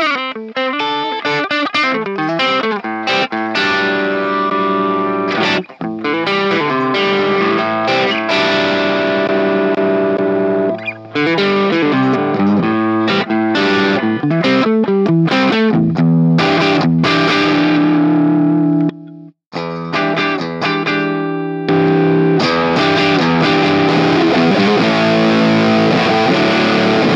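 Electric guitar played through a germanium boost pedal with a Philips OC141 transistor into a Marshall SV20H amp, a gritty, driven tone with ringing chords and single notes and a couple of brief stops.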